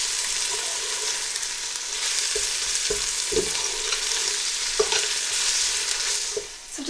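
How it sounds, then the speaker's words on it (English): Garlic, ginger and onions sizzling in a hot pan with occasional stirring scrapes and clinks, a continuous close crackle with no talking. "So I've just been frying the ginger, garlic and onions for about 30 seconds"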